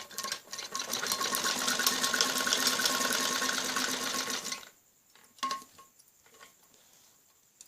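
A sewing machine stitching kameez fabric with buckram at the neck runs in a fast, even whir for about four and a half seconds, close and loud, then stops, leaving a few soft clicks and handling sounds.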